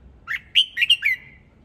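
A red-whiskered bulbul gives a short, loud, close song of four or five bright whistled and chirping notes in a quick burst over quiet background.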